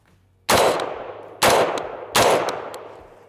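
Three loud, close shots ring out from a SOLGW M4-89 rifle, evenly spaced about a second apart, each with a sharp crack and a decaying echo.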